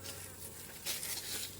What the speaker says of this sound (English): You may want to stay with your hive bees.